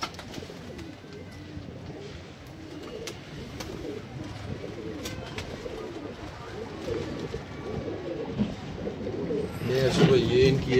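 Sialkoti pigeons coo in repeated soft, throaty rolls on a rooftop, close and continuous, with a muffled voice and scattered handling noise in the background and a louder rustle near the end.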